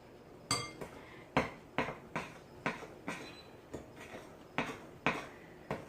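A spoon working through persimmon pulp in a bowl, giving about a dozen sharp clinks and scrapes in an uneven rhythm, close and clear, with no talk.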